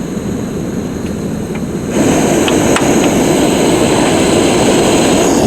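A liquid-fuel camp stove burner roars steadily while burning off fuel from its tank outdoors at a campsite, growing louder partway through and continuing as a loud, unbroken rushing hiss.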